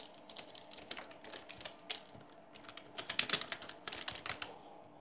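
A computer keyboard is tapped in quick, uneven bursts of soft clicks while a name is typed, heard close and fairly quiet with no speech.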